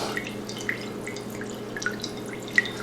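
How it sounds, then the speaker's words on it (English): Whey drips from squeezed cheesecloth, a few faint, close, irregular droplet plinks over a low steady background hum, with no talking. "if there's any whey left, it'll come out in a little stream just like that"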